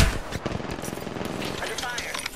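Rapid automatic gunfire in the battle-royale game Apex Legends, with dense bursts of shots crackling across the whole clip and a player talking over them.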